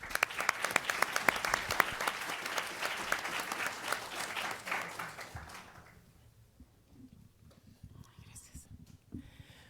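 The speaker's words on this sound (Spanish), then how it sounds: "para quien pido, por supuesto, un caluroso aplauso" Audience at a judicial independence panel gives a warm round of applause for a law institute director, loud dense clapping for about five seconds that quickly dies away into quiet room noise.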